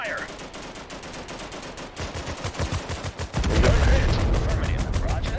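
Soldiers open fire in a modern army squad-based strategy shooter. Dense, rapid automatic fire rattles on and grows louder and heavier partway through as more guns join in a close, continuous barrage.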